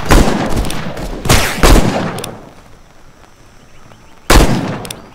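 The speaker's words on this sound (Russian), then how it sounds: "Это был четкий выстрел." Loud gunshots crack in Heat, a Wild West open-world survival game, a few sharp blasts in bursts with echoing tails, separated by brief quieter gaps.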